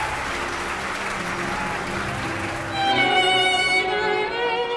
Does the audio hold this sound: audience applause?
yes